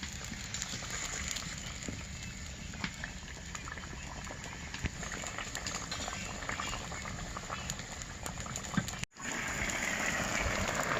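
Catla fish simmers in a tomato curry, a steady close bubbling and soft patter that keeps going under low kitchen noise.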